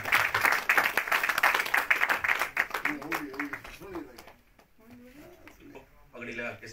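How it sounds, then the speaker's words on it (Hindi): Audience clapping at a political welcome gathering for a Gujjar leader from Ramban, fairly loud for about three seconds and then fading as a voice takes over. "जोरदार तालियों से स्वागत करें सारे।"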